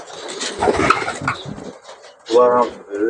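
Male racing pigeons coo in a loft, a few soft throaty calls rising between bursts of rustling and shuffling, heard close by.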